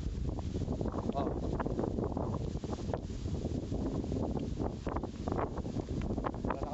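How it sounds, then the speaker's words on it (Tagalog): Strong wind buffets the microphone in loud, continuous gusty rumbles over a rice field, with rustling underneath and no clear pauses. "Sobrang lakas ng hangin"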